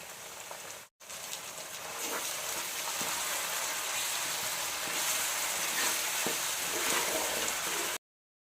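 Onions frying with ginger garlic paste in a pan for Andhra-style fish pulusu make a continuous crackling sizzle, beginning after a short silent gap and growing slightly louder, with occasional light stirring taps.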